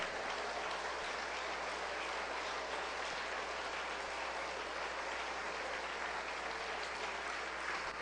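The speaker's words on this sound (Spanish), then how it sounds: "Dale ese fuerte aplauso al Señor." Steady, dense applause from a church congregation, a continuous even wash of clapping that holds at constant loudness throughout with no voices standing out.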